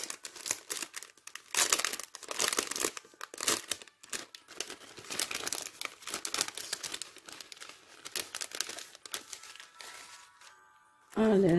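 Mail package being opened, with crinkling and tearing of plastic and paper wrapping in irregular bursts for most of the stretch, close and fairly loud; a voice talks over parts of it near the end.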